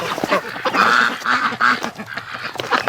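Muscovy ducks call nearby in a cluster of short, raspy honking quacks, loud and irregular, with several birds overlapping.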